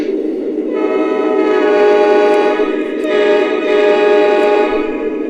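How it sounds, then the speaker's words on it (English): A Lionel model train diesel horn sounds one long, steady, loud chord with rich layered tones, holding for several seconds with slight swells in volume. "So this horn is probably one of Lionel's best diesel horns that they ever made"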